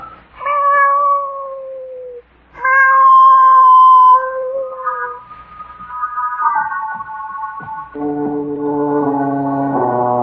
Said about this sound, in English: I'm bringing this cat in here.